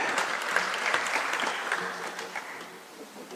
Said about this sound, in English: let's clap as they're coming, as a sign that this is something that we all agree with.